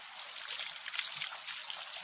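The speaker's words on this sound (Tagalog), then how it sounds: "Yan ang patak dito guys." Water at a river trickles and splashes close by with a steady, bright, hissing flow and small irregular drips throughout.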